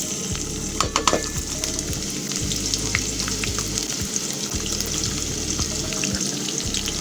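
Chopped onion frying in hot oil for spaghetti, giving a steady dense sizzle with crackling pops and a few scraping stirs, close and loud, with no talking.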